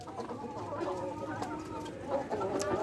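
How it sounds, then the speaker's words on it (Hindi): Chickens cluck and murmur up close while eating large mealworms, producing a busy, continuous patter of soft clucks with a few louder calls near the end. "मुर्गियां जो है शौक से खा रही हैं।"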